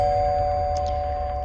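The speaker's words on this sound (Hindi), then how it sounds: "तभी दरवाजे की घंटी की आवाज़ आई" A doorbell rings at night in a house, one clear sustained electronic tone ringing on at steady loudness, close and alone with no voices.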